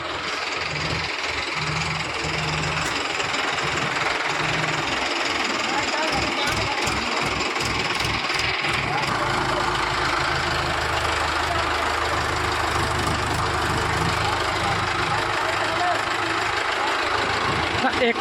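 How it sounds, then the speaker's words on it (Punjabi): A tractor engine idles and chugs loudly with rhythmic knocking, then revs into a heavier, steady rumble as it reverses a trolley into a shed nearby. "ਟਰੈਕਟਰ ਨੇ ਉਹਨੇ ਪਿੱਛੇ ਕਰ ਲਿਆ ਪੂਰਾ"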